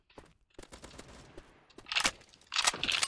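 AK5 rifle fire in the shooter game Maskgun FPS crackles in rapid bursts, first lighter, quick shots and then two louder, sharper volleys toward the end.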